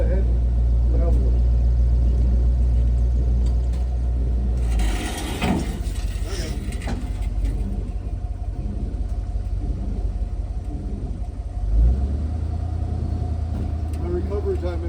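A 1987 Ford Mustang rumbles at low idle, then pulls ahead on gravel with a rough, shifting drone and crunching texture, heard up close as someone talks over it.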